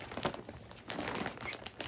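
A plastic bag crinkles and rustles in close, irregular bursts as a crochet project is pushed back inside.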